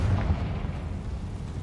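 A spell-triggered explosion in the fantasy video game Hogwarts Legacy sounds as a deep, muffled boom that rumbles and fades into a low roar, fairly quiet overall.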